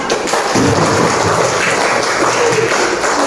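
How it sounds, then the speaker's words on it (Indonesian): A classroom of students applauds a group, a loud, rapid burst of many small hands clapping close by, continuous and slightly uneven for a few seconds. "Beri tepuk tangan untuk kelompok 4"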